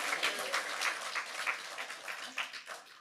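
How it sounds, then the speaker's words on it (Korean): A church congregation at a Korean prayer meeting gives steady, lively applause, many hands clapping together for about three seconds, close and sustained without a break. "영광의 박수."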